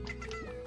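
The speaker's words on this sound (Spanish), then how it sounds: "Ahora os traigo unas gallinas" A short, fairly close burst of clucking from chickens in the video game Slime Rancher, with a couple of quick squawks over a steady background tone, lasting under a second.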